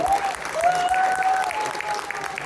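Audience applause at a Tamil association debate event in Albany, New York, a steady patter of clapping at moderate level with a faint tonal sound running over it.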